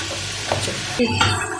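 Chicken with salt being stir-fried in a pot, a spoon scraping and stirring over a low sizzle, with a few short clinks of the utensil against the metal.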